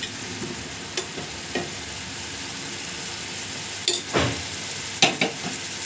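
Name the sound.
chili powder frying in oil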